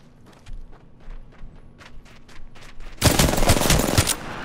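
Apex Legends gunfire: a string of sharp separate shots that steps up into a loud, dense burst of rapid fire near the end.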